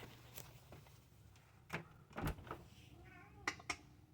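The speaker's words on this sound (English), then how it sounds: "He's going, meow, meow." A house cat meows outside a door wanting to be let in, a few faint cries scattered among clicks and knocks of the door, quiet and somewhat distant, with no speech.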